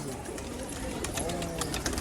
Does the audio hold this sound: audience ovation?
no